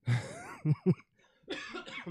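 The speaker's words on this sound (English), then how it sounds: "Coughing" A person coughs several times in quick bursts close by, with a brief raspy throat sound and a short breath between them.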